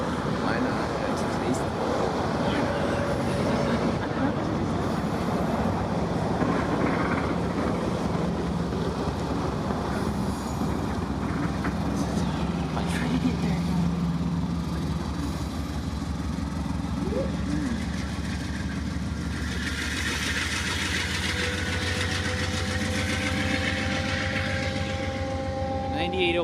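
Freight train with distributed power locomotives passing on a cold morning in Pennsylvania: a steady, loud rumble of engines and rolling cars continues throughout, with occasional squeals and a voice speaking partway through.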